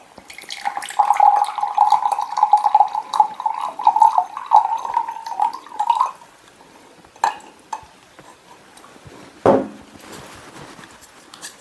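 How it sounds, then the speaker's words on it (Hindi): Water pours from a bottle into a glass in a home kitchen, a steady trickling stream for several seconds that then stops, followed by a few isolated knocks and a sharp clink. "अब मैं एक ग्लास में इस पानी को डालता हूँ।"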